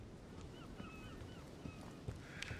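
Seagulls call faintly in the video game The Council, a few thin, drawn-out cries over a low ambient background bed, quiet and distant with no talking.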